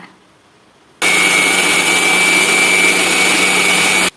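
A mixer grinder bursts into a loud, steady high-pitched whirring roar as it grinds spices for a fish masala, running for about three seconds before cutting off abruptly.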